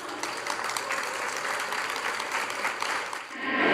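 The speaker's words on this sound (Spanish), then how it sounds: "La despedimos con un fuerte aplauso." Audience applause following a talk on mental health and emotional autonomy at a teachers' union event, steady dense clapping from a crowd that swells louder toward the end.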